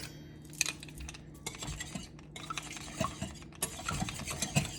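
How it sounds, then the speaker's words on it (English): Whisking ingredients for gluten-free, dairy-free cinnamon roll muffins in a bowl, heard as close, quiet clinking and scraping of a metal whisk against the bowl that comes in irregular bursts, with no talking. "Just whisk it a bit."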